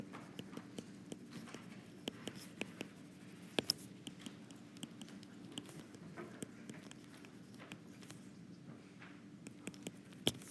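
Scattered pen or marker taps and scratches from writing notes during a university lecture, faint irregular clicks over a low steady room hum.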